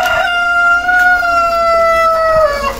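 A rooster crows once, loud and close, a long drawn-out call that holds and then falls off near the end.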